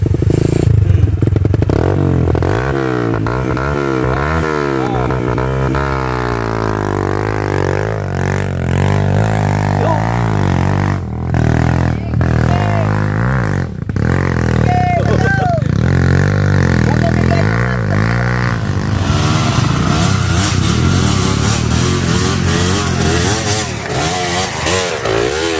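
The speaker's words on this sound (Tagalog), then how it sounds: "Nagtaraking ang motor na eh, nagtaraking ang motor." A motorcycle engine running loudly up close, revving and idling with shifting pitch, accompanied by some clattering and scraping.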